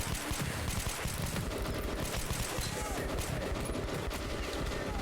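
Rapid automatic gunfire in the video game Metro 2033 Redux, a dense continuous burst of shots filling the whole stretch at steady loudness, with a voice speaking faintly underneath.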